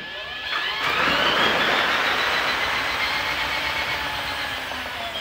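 A spin art machine whirling a blank canvas, a steady loud mechanical whir that rises quickly after a second and holds, easing slightly toward the end, with no voices.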